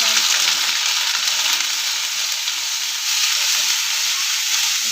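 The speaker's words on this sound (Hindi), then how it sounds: "इसको हम चलाते रहेंगे थोड़ी देर। ये देखिए पक रहा है।" Turmeric and ginger paste fries in a pan while being stirred, a steady loud hiss and sizzle running without a break, with faint scraping underneath.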